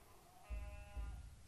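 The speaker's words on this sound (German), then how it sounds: "dass das Geschrei von dem Baby sich anhört wie so eine Ziege" In a horror video game, a baby's scream resembling a goat's bleat sounds as a couple of wavering, nasal cries over a low rumble, moderately loud against a quiet background.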